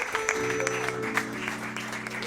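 A church congregation at an evening service claps, with sustained keyboard or organ chords sounding underneath the applause.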